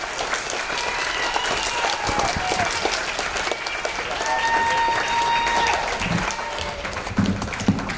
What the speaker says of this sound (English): would you please give a big round of applause